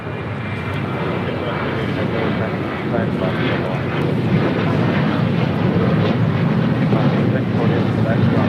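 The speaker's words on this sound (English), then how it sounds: "This is Alaska Airlines 1348 taking off to Puerto Vallarta on a 737-900 ER." Alaska Airlines Boeing 737-900ER taking off from LAX, a loud, broad engine roar building steadily and holding, heard from outside with wind noise and faint radio chatter.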